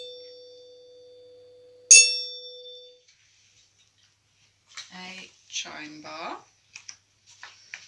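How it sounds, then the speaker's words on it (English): A chime bar is struck once, giving a bright metallic ding that rings and slowly decays for about a second. Afterward a person speaks. "Next, I've got a chime bar."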